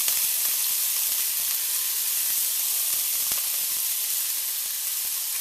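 Finely chopped onion sizzling in oil over low heat, a steady, even frying hiss that holds at one level throughout, with no talking.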